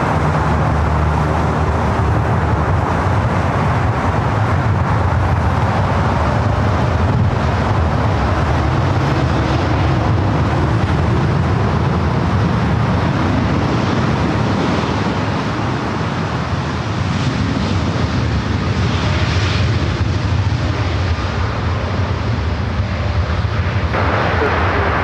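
Virgin Atlantic heavy jet landing on runway 24 right at LAX, a loud sustained low rumble and roar that holds steady throughout with wind, with faint voices underneath.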